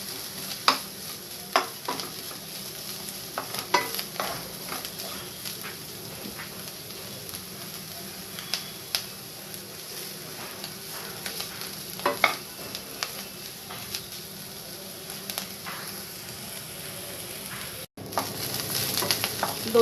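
Bitter gourd being roasted on medium heat in a pan, stirred continuously: a steady close sizzle with repeated scraping and clinking strokes of the spoon against the pan, running throughout without talk.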